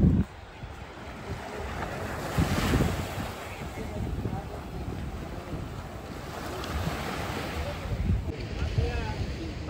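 Sea waves washing in at a fishermen's dock by Worli Fort, a steady broadband rush of surf mixed with wind buffeting the microphone, with swells rising around the middle and near the end.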